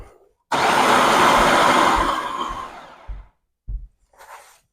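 A food processor runs in one long burst on pie crust dough with cold water added, loud and whirring, then gives two short pulses and a quieter trailing whir.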